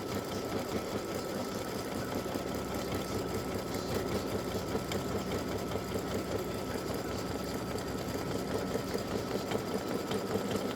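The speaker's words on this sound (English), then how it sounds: "it just does a little satin stitch all the way around the edge" An embroidery sewing machine runs a satin stitch around the edge of a freestanding lace butterfly earring, a steady rapid mechanical whir with a fast needle rhythm that continues alone and evenly throughout.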